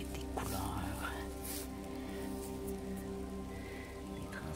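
Rain patters steadily on a boreal forest trail strewn with exposed rocks. The soft hiss of drops continues under a quiet voice.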